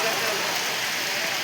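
Rain falling steadily: a dense, even hiss of drops hitting surfaces, close and continuous for the whole moment.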